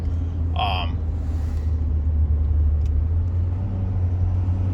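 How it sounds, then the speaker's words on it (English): An Amazon delivery truck squeezes past on a wet, rainy residential street, a steady low engine and road rumble holding close and loud throughout, with a brief higher-pitched squeal near the start. "Squeezed by the Amazon truck there."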